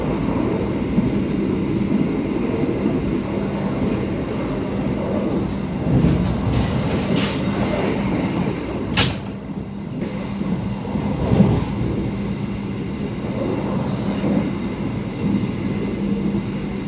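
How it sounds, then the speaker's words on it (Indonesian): Indonesian train running straight through Ngawi station between Kertosono and Palur, a steady heavy rumble of wheels and rail with a brief sharp burst near the middle, heard from inside the moving train with no talk. "melintas langsung stasiun Ngawi atau dulu yang dikenal dengan nama stasiun Alon."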